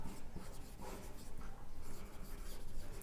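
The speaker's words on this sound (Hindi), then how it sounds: "मैं इसी के अंदर लिख देता हूं यहाँ पे" A pen scratches steadily across paper as a maths solution for a differential equation is written out, a close, continuous rough scribbling with short strokes and pauses.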